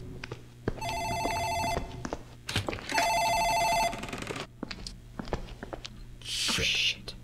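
Office telephone in the Dark Fracture video game ringing in two bursts of electronic bell trills, with a voice talking in between and other game sounds around.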